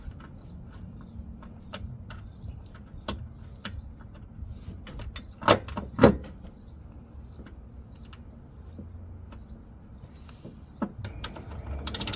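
Ratchet wrench with a 17mm socket working the bolts on a 2020-2026 Toyota Highlander OEM tow hitch bracket: faint, irregular mechanical clicking throughout, with a louder cluster of clicks and clunks around the middle, no talk.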